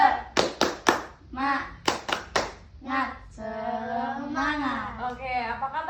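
Children in a classroom clap a rhythmic spirit chant, three quick claps repeated in short bursts, each set followed by young voices shouting together, with a longer sung group cheer at the end.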